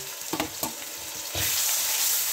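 Garlic and ginger paste hit hot oil with golden brown onions in a pan, giving a loud, steady sizzle with a few scraping stirs before the frying hiss swells brighter.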